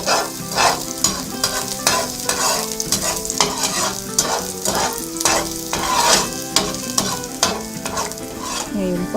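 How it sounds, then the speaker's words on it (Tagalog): Garlic sautés in oil in a pan while cooking humba, a loud, continuous sizzle broken by repeated stirring and scraping strokes, close up with no talking. "Gigisahin po muna natin itong bawang"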